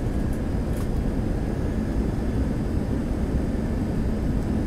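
Inside a passenger jet on approach to land at Delhi airport, a steady, loud low-pitched cabin rumble of engine and airflow noise holds continuously, with no voices heard.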